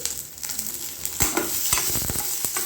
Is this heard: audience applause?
no